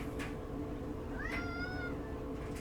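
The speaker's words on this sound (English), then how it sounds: "Big meows." A cat, likely in a video game setting, lets out a clear rising-and-falling meow at mid-distance over a steady low background hum, with a fainter earlier call.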